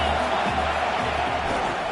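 Stadium crowd noise at a football game swells as a constant, loud cheering roar, with a voice speaking over it.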